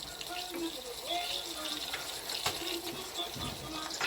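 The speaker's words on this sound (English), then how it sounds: "we're going to use some of the pasta water in here, in with our greens" Starchy pasta water pours into a pan of cooking broccoli rabe greens, a soft, steady liquid gush and splash running under a speaking voice.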